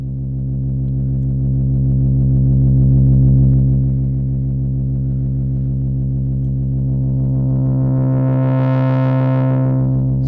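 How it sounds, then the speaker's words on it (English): A steady oscillator tone from a VCV Rack virtual modular synthesizer with rich buzzy harmonics that wobbles under slow modulation, swelling brighter toward the end before settling back. "now we could actually hear the modulation as it's having its own sonic character"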